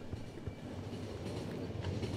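A train rolls along rails in The Final Station video game, giving a steady rumbling roll with faint clickety-clack that stays moderately loud throughout, with no voices.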